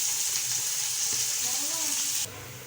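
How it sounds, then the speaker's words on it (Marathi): Tomatoes frying in hot oil with onions for pav bhaji, a steady close hiss and sizzle with faint low background sounds, cutting off abruptly near the end. "टोमॅटो असे छान त्याच्यामध्ये तळू द्यायचे."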